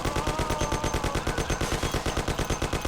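Sustained automatic gunfire from the Mafia video game rattles steadily and loudly at close range, a fast even stream of shots with no talking over it.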